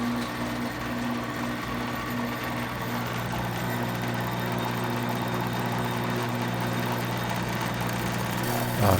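Wood lathe running at its slowest speed while turning a mallet blank between centers, a steady close motor hum with a faint rhythmic whir throughout and no voices.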